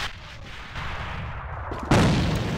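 Grenades burst in the online shooter AVA during a competitive match, a rumbling blast building up and then a sharp, louder explosion near the end, with no talking.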